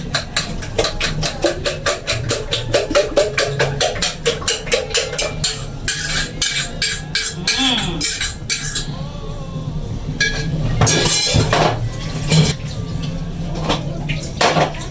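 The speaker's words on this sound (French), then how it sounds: "maintenant je verse mon mélange à l'intérieur, n'est-ce pas?" A beaten mixture is poured into a dish while a fork clinks rapidly and rhythmically against it, close and bright, with brief scraping and a voice now and then.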